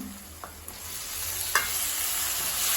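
Garlic and freshly chopped tomato sauté in a pan for Chettinad chicken curry, giving a steady low sizzle with a few sharp stirring scrapes and clinks, close and alone.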